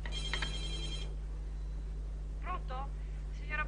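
A telephone rings with a short electronic trill at the start, followed by quiet, and later a voice speaks briefly over a low steady hum.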